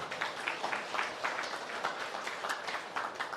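An audience applauds together, a dense, steady wash of clapping that holds evenly throughout without dying away.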